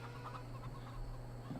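Chickens cluck softly in Farming Simulator 17, several short clucks scattered over a steady low farm hum, faint and fairly close with no talking.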